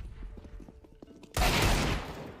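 A video game gunshot cracks out suddenly as one loud burst with a noisy lingering tail, following a few quieter clicks and thumps.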